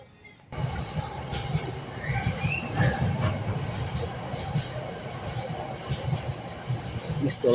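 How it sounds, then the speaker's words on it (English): A Freightliner freight train with a long string of wagons rolls past at steady volume, a continuous low rumble with faint wheel clatter and occasional squeal, starting abruptly and holding for several seconds. "Missed the locomotive, but it was a Freightliner."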